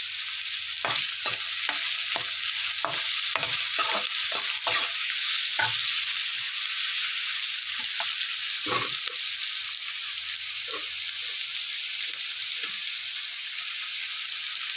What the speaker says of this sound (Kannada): ಕರಿಬೇವು, ಒಂದು ಪಲಾವ್ ಎಲೆ, ಇದನ್ನು ಕೂಡ ಹಾಕಿ ಈರುಳ್ಳಿ ಜೊತೆ ಚೆನ್ನಾಗಿ ಫ್ರೈ ಮಾಡ್ಕೊಂಡಿದ್ದಾನ